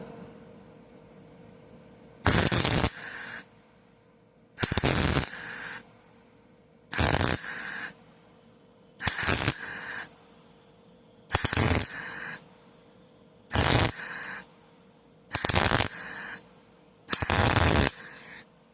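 Welding a bead onto a truck bedside during a longbed-to-shortbed conversion: eight evenly spaced bursts of loud, crackling arc noise, each about a second long, separated by short pauses under a steady low hum.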